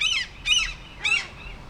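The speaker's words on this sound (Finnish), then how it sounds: "Täällä on varmaan 1 miljoona lokkia." Seagulls calling outdoors, three loud, harsh squawking cries spaced about half a second apart, close by and clear, with no speech.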